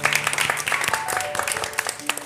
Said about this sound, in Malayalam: എല്ലാ കൂട്ടുകാർക്കും ഒരു ബിഗ് ക്ലാപ്പ് കൊടുത്തേ കൂട്ടുകാരെ